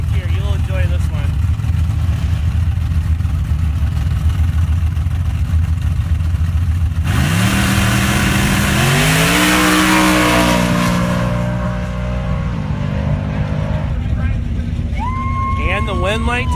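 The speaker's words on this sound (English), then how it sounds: "Sounded like Ross's truck didn't shift down there." Off-road race trucks in a drag race at a spring nationals event, engines roaring loud and close with rising revs through gear changes, one truck failing to shift, heard under an announcer's commentary.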